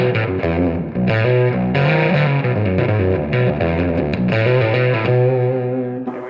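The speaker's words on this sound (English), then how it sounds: "The first thing in the chain is the Octaland by Jesse Davey, King Tone. Sounds like this." An electric guitar runs through a King Tone Octaland overdrive pedal, playing a steady, dense stream of driven, gritty notes and chords, loud and continuous for several seconds.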